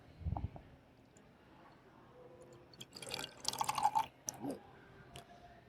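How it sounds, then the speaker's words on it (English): Tiki punch beer from Wild Barrel Brewing in San Marcos, California, is poured with a soft splashing and bubbling fill in the middle of the clip, quiet and close, with faint drips around it. "So he's currently pouring some tiki punch from Wild Barrel Brewing"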